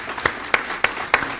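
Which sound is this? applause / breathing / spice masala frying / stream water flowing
applause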